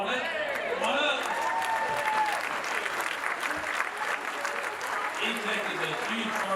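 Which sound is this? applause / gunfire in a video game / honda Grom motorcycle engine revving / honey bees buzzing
applause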